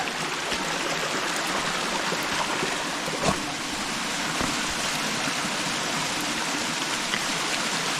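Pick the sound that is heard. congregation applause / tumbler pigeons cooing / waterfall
waterfall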